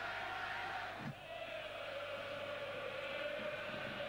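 A football crowd of over 50,000 in the Bernabeu Stadium keeps up a steady, distant roar and murmur throughout, a brief swell and dip near the one-second mark, with no clear individual voices.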